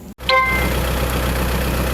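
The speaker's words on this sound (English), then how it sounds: "spread it with the tractor" Tractor engine running steadily on a homestead where wood chips are being spread, a loud, continuous low rumble with a few brief mechanical squeals near the start and no one talking.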